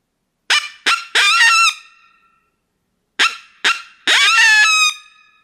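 A hand-blown reed predator call imitates a coyote. Two sharp barks lead into a rising aggressive howl that cuts off abruptly, and the whole sequence is played loud and close twice with a pause between.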